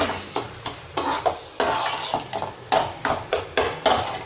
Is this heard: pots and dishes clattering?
yes